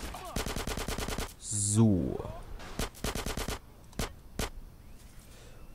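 Rapid automatic gunfire in GTA San Andreas, several loud bursts of evenly spaced shots separated by brief gaps, with a sweeping engine-like whoosh in the middle and a couple of single shots near the end; a voice briefly speaks.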